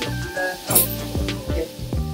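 Fish frying in hot oil: a close, crackling sizzle that surges in bursts and settles again, with a brief hiss of spatter and soft clinks, no speech over it.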